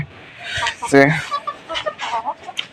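A chicken gives a short, loud cluck close by, amid scattered quieter clucks and a person talking.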